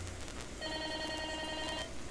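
A telephone rings once in a single sustained electronic trill lasting about a second, clear and close over a faint background.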